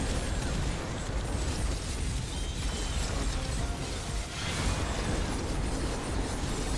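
Continuous dense explosions and bursts from bleeding bombs in the video game Soulstone Survivors, a steady loud wash of popping, crackling blasts with mechanical clatter running throughout, no voice.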